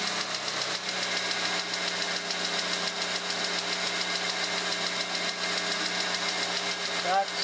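85-year-old 10EE lathe running at about 1600 RPM, a steady, even mechanical hum and whir heard close and continuous, with a faint voice near the end.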